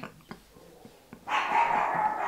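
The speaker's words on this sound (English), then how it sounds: "Oh my gosh, that dog. Sorry if you can hear her." A domestic dog barks from a distance, faint sharp yips spaced out at first, then a sustained louder bark or howl near the end, heard indoors with no talk.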